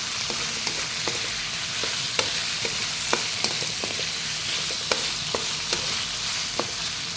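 Shrimp sizzles steadily in a pan of oil while a utensil stirs it, making sharp scraping clicks at irregular intervals over the continuous frying hiss.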